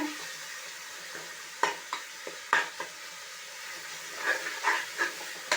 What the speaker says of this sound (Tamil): இப்போ வந்து நல்லா வதங்கிடுது